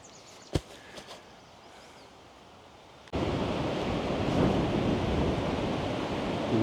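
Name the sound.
northwest wind blowing and moving sand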